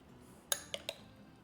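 A small spoon stirs a honey-sweetened bruschetta filling in a bowl, giving three quick, light metallic clinks against the dish in an otherwise quiet moment.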